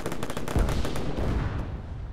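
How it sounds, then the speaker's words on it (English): Bursts of rapid gunfire in the video game Arma 3 crackle in quick succession, with sharper nearby shots over a continuous rattle, fading into distant echoing fire. "that gunfire behind us, that was an enemy then."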